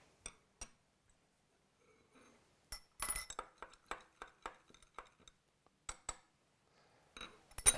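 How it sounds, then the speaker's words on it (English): Glass clinks and taps as iodine is stirred into water in a glass beaker, a few sharp isolated strikes early, then a quick run of clinks in the middle and a couple more near the end, close and fairly quiet with no talk. "Add the iodine to water and stir 4 times"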